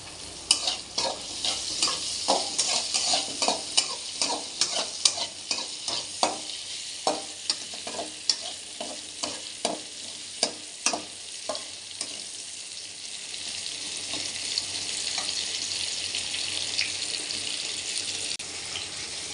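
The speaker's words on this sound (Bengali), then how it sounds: "দুটো আলু আলু দেবো এবার কড়াতে।" Potatoes frying in a kadai, a steady oily sizzle with rapid rhythmic stirring scrapes for the first half, then a smoother continuous hiss, close and moderately loud.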